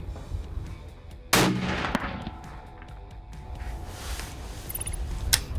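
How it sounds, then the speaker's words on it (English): A single rifle shot fired in the field with tape over the barrel: one loud, sharp crack followed by a short rolling echo over quiet outdoor background. "that was the first shot with the tape barrel"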